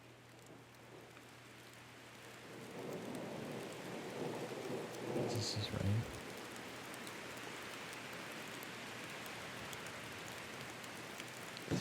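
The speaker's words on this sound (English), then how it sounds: "The video is titled "Just Rain."" Steady rain hisses throughout while a low rumble of thunder swells in the middle and fades back into the continuous downpour, fairly faint overall with no voices.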